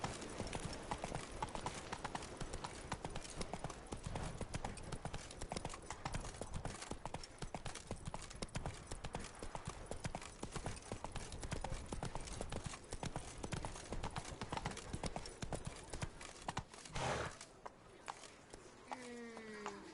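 Roach the horse walking in The Witcher 3 video game, a loud, steady clip-clop of hooves repeating without pause for most of the stretch, then easing off near the end.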